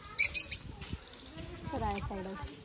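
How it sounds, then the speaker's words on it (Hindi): Small birds chirp in bursts at a zoo aviary, their high tweets clustered near the start and fading as a person speaks and background chatter fills the rest. "कितना चू चू चू चू करत"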